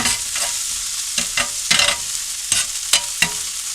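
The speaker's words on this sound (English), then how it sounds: "The steak there is being cooked nicely." A steak sizzles in a hot pan, making a steady, close hiss punctuated by several short scraping bursts as it is moved about.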